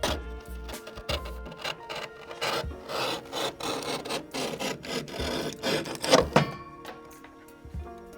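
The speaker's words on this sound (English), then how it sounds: "I'm gonna trim this inner liner so we can see what we're working with" A plastic inner fender liner on a GMC 1500 pickup is trimmed by hand, with irregular scraping and cutting strokes of moderate loudness and no talk.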